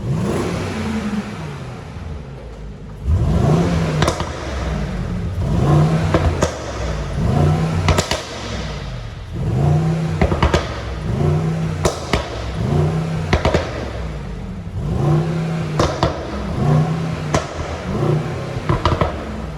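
A 2021 Mercedes-AMG GLE63 S Coupe engine revving in Sport Plus mode, loud and close, rising in repeated bursts and dropping back between them, with sharp crackles at several peaks.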